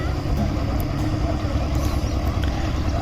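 A river ferry boat carrying people across from one bank to the other runs its engine in a steady, continuous drone that stays level throughout, with broad outdoor noise around it.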